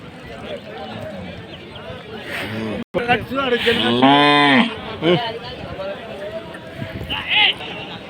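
A loud, drawn-out cow moo close by, amid background chatter and shuffling of a Monday bull market in Pattikonda.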